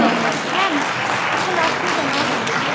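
Loud, continuous applause at a sangeet ceremony, close and full throughout, with voices and cheering mixed into the clapping.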